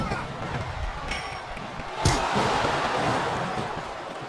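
Loud crowd roar filling a large wrestling arena in WWE SmackDown vs. Raw 2007, steady and broad, with a sharp thud partway through.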